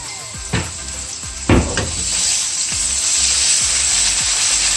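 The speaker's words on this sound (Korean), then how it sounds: "배추를 익었으면 여기에다가 넉넉하게 식용유 부어주세요." Cabbage cooks in plenty of oil in a frying pan with a loud, close sizzle. Two sharp bursts of spattering come early, then a continuous crackling hiss settles in; no one speaks.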